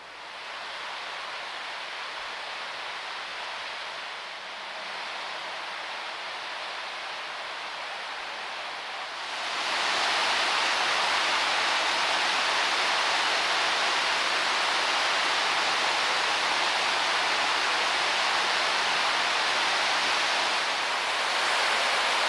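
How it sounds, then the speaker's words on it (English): A waterfall in a canyon gives a steady broadband rushing roar that becomes noticeably louder and fuller partway through, continuous and with no talking. "Now that is a much more enjoyable waterfall experience"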